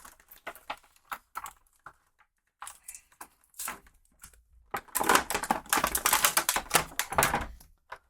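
Crinkly plastic packaging being handled as a Robin action figure is popped free and tape on the back is peeled away, sparse close clicks and rustles giving way to a longer burst of dense crackling.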